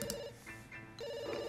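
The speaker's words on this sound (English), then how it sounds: "No, you can't use the phone, Cassandra, I trapped you here" A telephone rings in The Sims 2 video game, two bright electronic ring bursts separated by a short pause, clear and alone.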